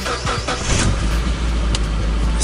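A car engine cranks and catches, settling into a steady loud idle with a low rumble and some rattling clatter throughout.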